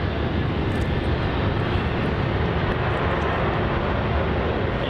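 Etihad airliner passing at Melbourne Airport, a loud continuous jet engine roar that holds steady and close for the whole stretch.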